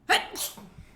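A single sharp sneeze, close and sudden, followed by a brief breathy trail.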